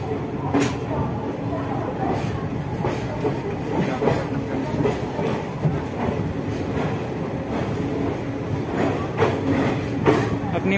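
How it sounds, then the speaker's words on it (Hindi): The Samta Express rolls into Visakhapatnam railway station with a steady, close rumble of wheels and carriages and faint rhythmic clatter throughout, while a voice talks intermittently over the train noise. "अपनी मंजिल पे आ गई ये ट्रेन"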